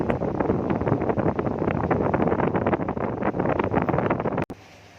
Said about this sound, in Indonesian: Efek ini menyebabkan terjadinya getaran pada bangunan jika terkena angin yang cukup kencang.